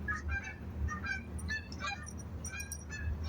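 Geese honk repeatedly in short, nasal calls as a dog scares them off, several birds overlapping at moderate distance, over a low background rumble.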